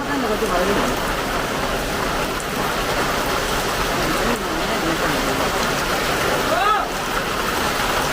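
Steady broadband rain hiss fills the whole span in a Kerala home setting during windy, rainy weather, with faint voices murmuring underneath and no clear breaks.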